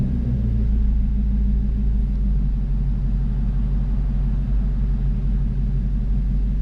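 A Ford Mustang GT350 with a Tremec TR-3160 manual transmission idles steadily in gear with the rear wheels turning, a loud, even, low engine rumble that continues without change.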